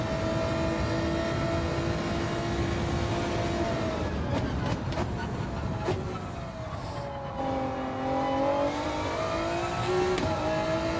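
A race car engine drones and revs in Gran Turismo 7, a continuous loud whine with pitch shifts and brief dips as gears change, heard alone without talk.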